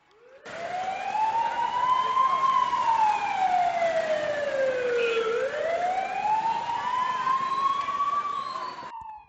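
A loud, close ambulance siren wails continuously, its tone sliding slowly up and down in long sweeps over the rumble of road traffic.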